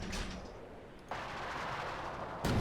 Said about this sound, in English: that's the Soviet artillery actually now firing on something